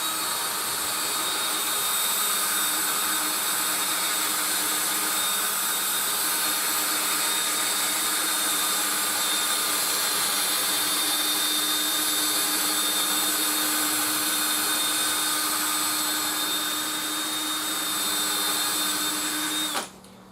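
Steady high-pitched whine of a power polisher running a sponge pad with polishing compound over a bass guitar body, loud and continuous for about twenty seconds before cutting off at the end.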